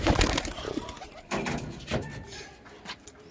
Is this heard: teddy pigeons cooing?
yes